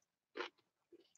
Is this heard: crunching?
yes